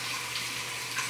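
Steady tap water running over a peach at a kitchen sink, a continuous, even hiss of flowing water with no talk.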